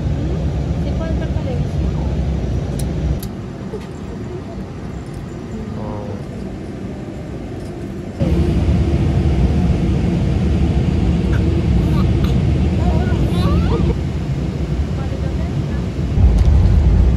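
Steady, loud broadband roar of an airplane cabin in flight, a continuous engine and air rumble that shifts level slightly partway through, with faint voices underneath.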